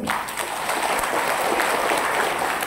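A crowd at a talk by a revered guru bursts into steady, dense applause, many hands clapping at once and sustained for the whole moment without a break.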